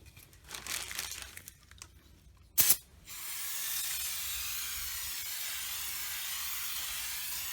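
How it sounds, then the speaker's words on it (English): An aerosol can of brake cleaner sprays onto a rear disc brake: faint rustling and handling noises, a short sharp hiss, then a continuous close hissing spray that runs steadily to the end. "Put a good coat of brake clean on top and just wipe it off."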